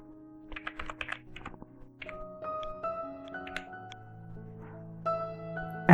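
Quick bursts of close computer keyboard clicks come near the start, followed by sustained electronic tones and a few more scattered keystrokes.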